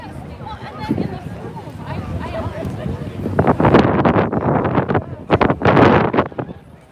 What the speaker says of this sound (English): It's a little windy. Hopefully the audio doesn't go to crap.